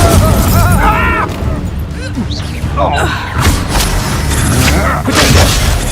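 Fire spell cast in Hogwarts Legacy during combat: a burst of whooshing, crackling impacts and thuds over game music and effects, with a voice speaking.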